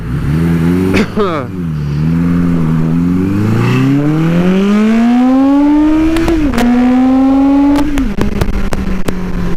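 A Suzuki GS850 converted into a scrambler motorcycle accelerates hard on the road, its engine note climbing steadily through the gears with brief dips at each shift; the sound is loud and close, with no talk.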